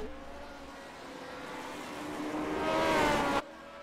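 L49 race cars at the Zolder circuit roar through corners and over a crest, engine note building and rising in pitch as a car closes in, peaking loud before cutting off sharply under braking.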